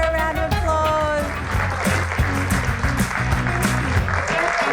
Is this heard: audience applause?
yes